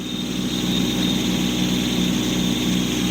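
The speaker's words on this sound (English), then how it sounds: "I'm going to turn the tractor here, and I'm going to go at a different angle." A Kubota compact tractor with a snow blower, clearing a frozen pond rink, runs with a steady, loud engine drone and mechanical whine that holds without a break.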